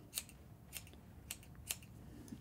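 Scissors snipping the loose ends of a knitted yarn pom-pom for a tea cosy, four or five quiet, crisp snips spaced about half a second apart over a low background hum.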